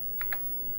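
Two quick key presses on an Apple II computer keyboard, sharp close clicks a split second apart, with quiet in between and nothing else around them.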